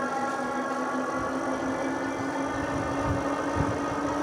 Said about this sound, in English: I kind of like to hear the motor working